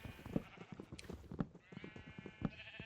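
Sheep in the Minecraft video game bleat in short, quick calls, several of them repeating at a moderate distance over a busy, clicky game soundscape.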